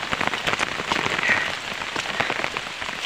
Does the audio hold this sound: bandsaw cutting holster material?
no